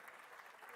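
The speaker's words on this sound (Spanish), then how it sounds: "fuerte el aplauso por favor" Applause bursts out at a livestock auction in Argentina as a filly is sold, a dense, steady patter of many hands held at an even level for a brief moment.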